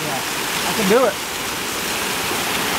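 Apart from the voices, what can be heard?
waterfall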